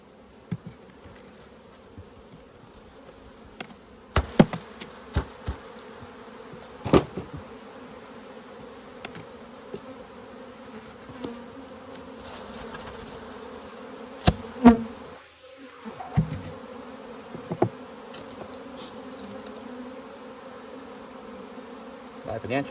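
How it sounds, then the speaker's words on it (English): Honey bees buzz steadily around a hive as weak colonies are shaken off frames in front of the entrance during a reduction into six-frame polyhive nucleus boxes; the hum is continuous and close, with occasional sharp knocks and clatter from handling the equipment. "We'll just shake these bees off in front of the hive."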